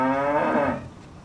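A single close, loud cow moo with a rich harmonic tone, held for most of a second before fading out, alone without talk.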